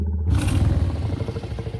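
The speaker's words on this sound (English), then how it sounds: "does that sound like a dragon to you?" Idling dragon creature effect built from layered sounds in a Wwise game-audio demo: a low, rumbling, purring growl that swells in after a brief silence and pulses steadily, close and continuous.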